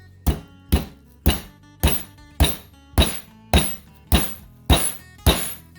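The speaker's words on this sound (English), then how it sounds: "you just want to hammer it down until it's about 1/4 inch thick" A meat hammer pounds pork tenderloin flat, giving ten sharp, evenly spaced thuds at close range, each dying away quickly, with no talk over them.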